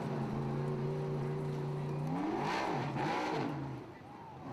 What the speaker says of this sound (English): Andy Fayash, your winner, revving up that car, doing a couple donuts